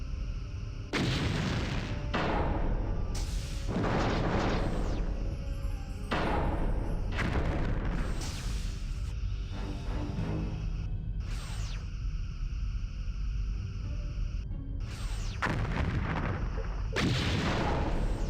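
Weapons fire in the Star Trek Bridge Commander space combat game knocks out a torpedo launcher, with a rapid series of loud, booming blasts and thuds, several heavy impacts following one another with brief gaps, no talking.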